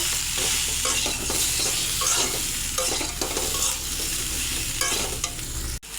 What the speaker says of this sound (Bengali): এবার পেঁপেটাকে ভালো করে ভেজে নেব